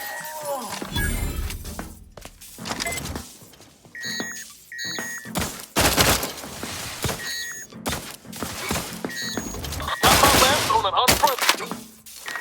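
Gunfire in the video game The Outer Worlds 2: bursts of shots and impacts alongside electronic beeps and tones, loud and close, coming in clusters separated by short gaps.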